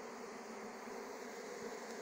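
Bees emerging from a hive give a steady, faint buzzing drone, a continuous insect hum with no voices.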